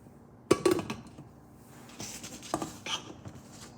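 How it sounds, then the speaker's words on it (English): A cooker holding mutton biryani ingredients is set down on a stove with one sharp metallic clank, followed by a few lighter clatters and scrapes of cookware nearby. "Now place the cooker with the mutton and everything on the stove."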